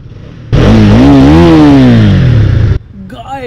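A Husqvarna Svartpilen 250 motorcycle sends out a loud, close exhaust note, a single sustained rev that rises and falls in pitch for about two seconds before cutting off abruptly.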